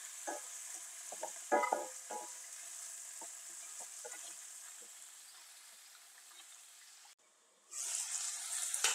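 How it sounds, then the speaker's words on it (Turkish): Washed chicken wings sear in garlic oil over high heat, giving a steady, faint sizzle with a few soft clinks of stirring, then a brief pause before the sizzling resumes louder. "Şimdi yıkadığım, süzdüğüm tavuk kanatlarımı bu yağın içerisine koyup güzelce yüksek ısıda mühürleyeceğim"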